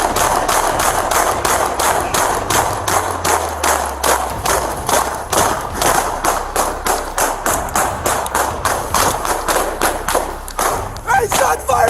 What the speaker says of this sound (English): Hey, shots fired!